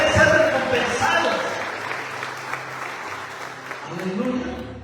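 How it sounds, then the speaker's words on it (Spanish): A church congregation claps, the applause loudest at the start and fading out while a preacher speaks over it. "Dale un aplauso al Dios viviente"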